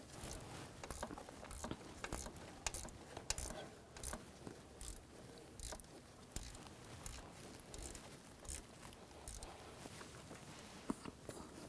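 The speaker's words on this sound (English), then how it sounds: "Now tighten this banjo bolt." A ratchet wrench tightens a banjo bolt on the turbocharger of a 2004-2009 Audi A4 Quattro 2.0L, a faint run of quick clicking strokes in short irregular bursts.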